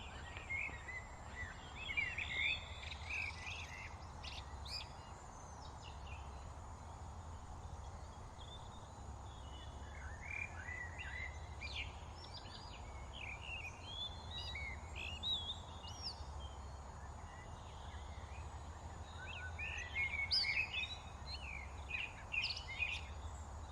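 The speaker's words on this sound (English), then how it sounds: "the bird song's taking over." Woodland birdsong in the Kent Downs, several birds chirping and trilling in scattered bursts at moderate distance, over a steady low rumble of distant motorway traffic.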